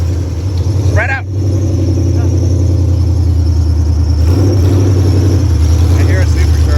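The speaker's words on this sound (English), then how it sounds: "I hear a supercharger." A supercharged car engine at a drift night event runs with a loud, steady low rumble throughout, dipping briefly near the start, while voices murmur in the background.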